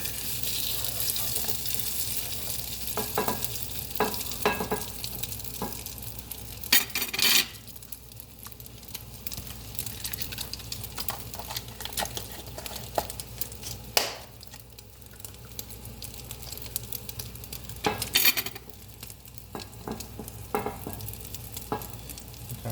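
A Spanish tortilla frying in a pan, a low steady sizzle with occasional sharp scraping and clinking sounds of a utensil against the pan, heard close with no talking.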